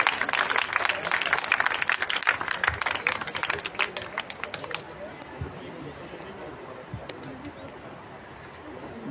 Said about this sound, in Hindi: आइए तालियों की गूंज